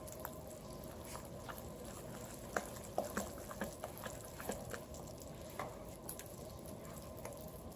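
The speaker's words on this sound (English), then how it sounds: "I'm going to give it another stir." A spoon stirs chicken spaghetti in a pot, making soft, quiet scrapes and light taps over a faint background hiss.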